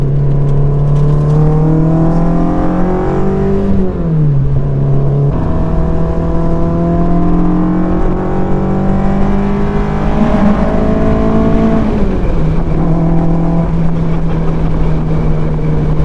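A Mazda Miata's 1.6-litre engine with individual throttle bodies revs up and down through several gears, a loud, buzzing drone that climbs, drops at each shift, and climbs again.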